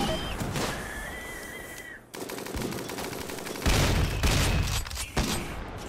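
Rapid bursts of video-game gunfire from RimWorld, dense, continuous rattling volleys that grow louder near the end, with no speech.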